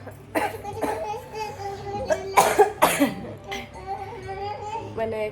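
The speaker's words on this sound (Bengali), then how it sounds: "কথা বলতে গেলে খুব কাশি হচ্ছে এত কাশি হচ্ছে" Several sharp coughs break out at uneven intervals, close to the microphone, mixed with a voice and some background chatter.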